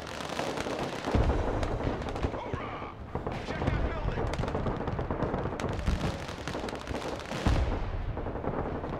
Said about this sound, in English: Oh, they're firing ATGMs at us.